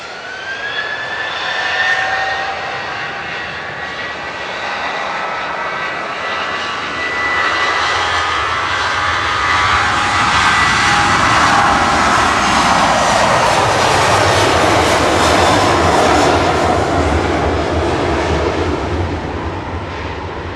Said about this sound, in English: Ryanair departing to Barcelona